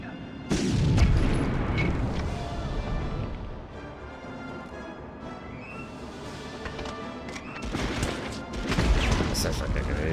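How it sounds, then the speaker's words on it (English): A grenade blast and heavy gunfire in the 1999 shooter game Medal of Honor: loud booming bursts near the start and again toward the end, with rumbling combat noise between and a voice speaking over it. "Sounds like a grenade."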